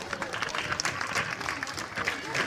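An audience applauds a doctor with sustained clapping throughout, mixed with crowd voices and talk over the top.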